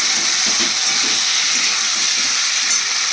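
Chopped tomato hits a hot pan of fish curry base with potato, giving a loud, steady, broadband sizzle that hisses continuously throughout with no voices.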